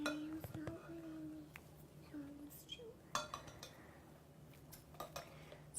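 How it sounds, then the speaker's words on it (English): Dishes are washed in a home kitchen while butternut squash soup cooks in an Instant Pot, with soft clinks of cutlery and knocks of pots scattered throughout, fairly quiet, with faint voices and a low background hum. "We've been washing lots of dishes"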